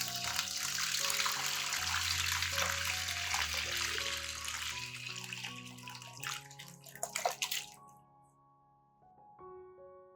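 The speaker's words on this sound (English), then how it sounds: "Pour the water into a basin." Water pours steadily into a basin with a full, splashing rush that thins and stops toward the end, followed by a few faint drips.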